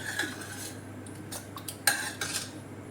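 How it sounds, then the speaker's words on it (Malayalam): A spoon stirs thick homemade beef curry gravy in a pot, making soft, sparse clinks and scrapes against the metal over a faint background hum, with no voices. "അപ്പം നമുക്കിനി അതൊന്ന് ഇളക്കി നോക്കാം"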